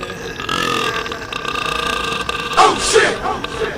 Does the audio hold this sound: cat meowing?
no